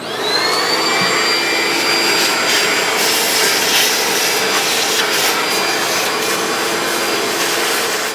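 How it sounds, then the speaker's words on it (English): A vacuum cleaner sucks debris out of the engine ports on a 2005–2010 Dodge Dakota during a knock sensor replacement. The motor spins up with a rising whine, then holds a loud, steady roar broken by scraping, rattling bits of debris. "Use a vacuum cleaner and remove as much of the debris as possible"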